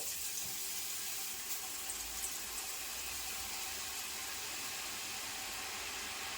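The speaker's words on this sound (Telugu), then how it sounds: "ఇప్పుడు ఆయిల్ వేడెక్కింది, బూందీ వేసుకుందాం." Boondi batter frying in hot oil sends up a loud, steady, dense sizzle and hiss that runs unbroken, like rushing water, with no talking.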